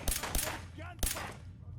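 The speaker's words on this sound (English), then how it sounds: "Gunfire." Several sharp gunshots in quick bursts from the video game Fallout 4, with brief pauses between volleys and faint background noise.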